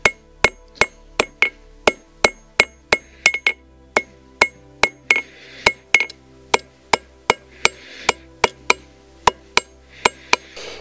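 Hot steel is hammered into a taper on the horn of an anvil while forging a leaf hook, about two dozen sharp ringing metallic blows in a steady rhythm with brief pauses, close and clear.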